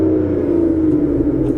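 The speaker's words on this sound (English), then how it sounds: "we are greeted by the wonderful 6-litre V12, which sounds absolutely incredible" A steady, deep drone from the stock 6-litre V12 engine of an Aston Martin Vanquish with a strong low rumble, heard from inside the car, holding a constant throaty tone.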